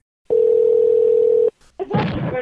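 A telephone dial tone sounds as a prank call is placed, one steady continuous tone lasting about a second, then a brief click and the start of a voice on the line.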